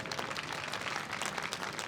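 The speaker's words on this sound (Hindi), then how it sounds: "अब इसके लिए आप जोरदार ताली बजा दीजिए।" An audience at a devotional discourse bursts into hearty clapping, a dense, sustained patter of many hands filling the hall for a couple of seconds.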